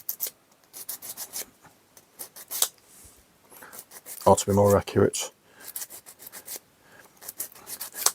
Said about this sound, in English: I'll just smooth off some of these areas on the cog with the sanding stick